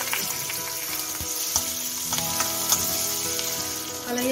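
Crushed garlic, curry leaves and onion frying in hot oil, with a continuous loud sizzle and crackle up close and a few faint stirring knocks, no voices.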